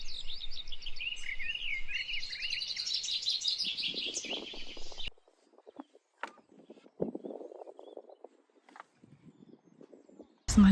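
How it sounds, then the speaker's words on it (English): Birdsong at a quiet allotment: high chirps and warbling tweets fill the first half, then sparser, fainter calls and small rustles follow, with a sharp noise at the very end. "you can just hear the birds"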